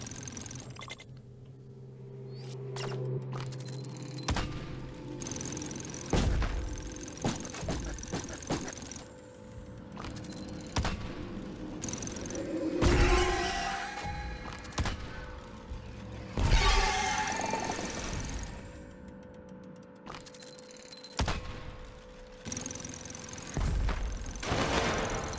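Double-barrel shotgun firing in the video game Dome Keeper, several loud sharp blasts scattered irregularly among game noise and a low engine-like hum.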